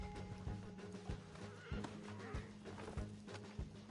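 Mare in the Red Dead Online video game trotting with rhythmic clip-clop hoofbeats at a steady pace, low thuds repeating about twice a second, fairly quiet overall.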